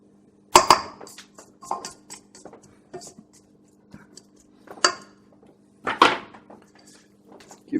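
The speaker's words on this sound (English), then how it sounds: "You can see the mixer jumping" A stand mixer churns chocolate chip cookie dough in an unlocked, jumping bowl, giving irregular sharp clunks and metallic knocks over a faint steady motor hum.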